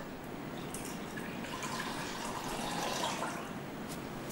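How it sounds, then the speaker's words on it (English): Milk is poured into beaten egg for onion ring batter, a steady, close liquid pour with a soft trickling splash that runs without a break for a few seconds. "Next, let's add the milk."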